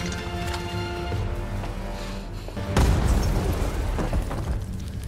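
An explosion in a war film: a tense, droning score gives way to a sudden loud boom, followed by a rumbling, crackling roar that stays heavy to the end.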